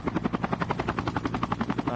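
A helicopter in the battle royale mode of the video game Call of Duty Mobile flies nearby with a rapid, steady rotor thump throughout, heavy and close, with no voices over it.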